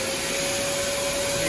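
A Balzano 25-litre vacuum cleaner runs loudly and steadily up close, a constant whooshing roar with a piercing whine on top.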